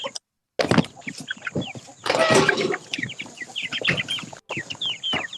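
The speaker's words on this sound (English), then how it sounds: "I can hear the chickens." Chickens cluck in a steady, busy chorus nearby, with short bursts of louder squawking and fluttering among them.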